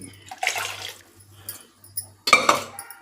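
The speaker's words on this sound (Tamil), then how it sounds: "பட்டாணி வேக வச்ச தண்ணி" Water that peas were boiled in is poured into a pot of vegetable rice in a home kitchen, a splashing, gurgling pour in short bursts with a faint low hum and clinks of pans nearby.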